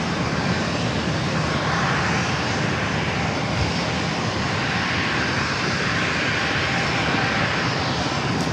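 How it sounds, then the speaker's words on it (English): An American Airlines A321 arriving from Charlotte at San Diego airport produces a sustained, even jet engine roar with strong high-pitched whine, moderately loud and steady throughout, with no talking. "That flight arriving was coming in from Charlotte, American Airlines flight 2796 and A321."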